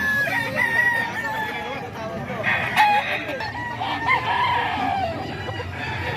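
A gray gamecock stag crows several times at a rooster farm among other fowl, the calls carrying over steady background noise and nearby people talking.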